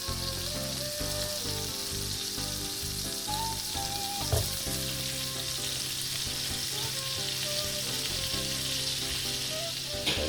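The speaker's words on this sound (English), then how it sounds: "I'm going to go in now with a generous amount of butter" A generous amount of butter sizzling in a frying pan over medium to low heat, with a steady, close, dense crackling hiss that carries on alone without speech.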